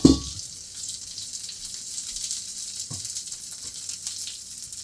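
Curry leaves roasting in about a spoonful of oil give a steady, faint crackling sizzle, with a sharper pop at the start and another small burst near the end.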